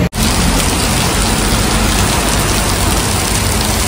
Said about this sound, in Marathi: आपल्याला पाऊस भेटलेला आहे मजबूत एकदम.